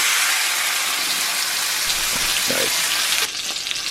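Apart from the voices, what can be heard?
ribeye steak sizzling in cast iron pan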